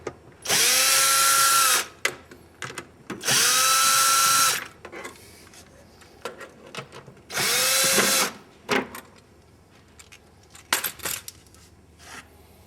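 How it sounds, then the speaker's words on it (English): Cordless drill motor backing out clutch cover screws on a Polaris Ranger, three sustained whirring bursts close up, each with a rising pitch, followed by brief clicks and clinks of loosened screws. "I find it's easiest to use a cordless drill motor"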